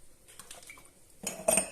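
A frying pan is set and moved on a kitchen stove, soft metallic knocks and a brief clatter of cookware near the end, close and moderately loud.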